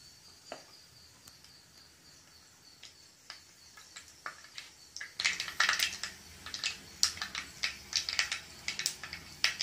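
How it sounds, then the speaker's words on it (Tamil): Sharp crackling pops and sputters from seeds frying in hot oil, sparse at first then becoming rapid and dense, close and fairly loud. "இப்போ வந்து கடுகு நல்லா பொரியற சவுண்ட் கேக்குதா?"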